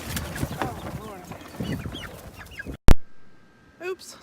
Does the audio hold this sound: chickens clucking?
yes